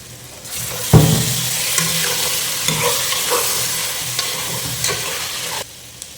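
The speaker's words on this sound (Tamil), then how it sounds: "நம்ம இப்போ பச்சை மிளகா போட்டாச்சு அப்படியே திருப்பி விடுறதுனா" Green chillies sizzle steadily in hot oil in a pan while being stirred with a spoon for a mutton gravy, a loud continuous fry with a sharp clatter near the start and scraping strokes throughout, no talking.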